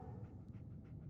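A dog pants rapidly in the Fallout 4 video game, quick soft breaths repeating close by over a low, steady background hum.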